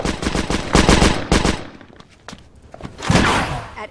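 Gunfire cracks out in short, loud, rapid bursts, a cluster of shots, a pause with a few scattered shots, then another burst, close and echoing.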